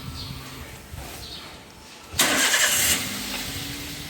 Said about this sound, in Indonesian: Untuk sebelumnya kita nyalakan dulu engine-nya.